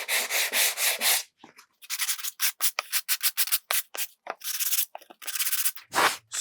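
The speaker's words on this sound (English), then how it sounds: "I'll sand it a bit." Hand sanding on a leather box, brisk rough rubbing strokes close up, first a quick run of even back-and-forth scrapes, then after a pause a faster series of short irregular strokes.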